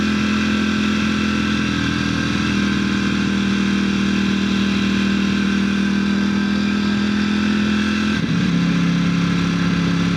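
Ducati motorcycle engine held at a steady loud drone for several seconds, then the pitch dips and shifts as it comes up in revs near the end, close and continuous with no talk.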